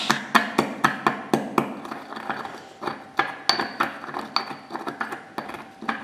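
Saffron threads crushed with an ice cube in a steel bowl: a rapid series of sharp, close clinks and taps, irregular but steady, with no voices.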